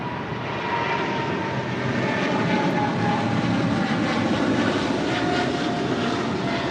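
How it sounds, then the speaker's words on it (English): A Boeing 777 freighter departs LAX with a loud, broad jet roar that builds slightly and holds steady throughout, close and unbroken, with no voices. "Cargo King 222 departing to Shanghai on our 777 freighter"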